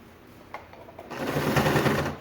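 A sewing machine stitches pontoon boat upholstery, a brief tap followed by a steady close mechanical whir of rapid stitching.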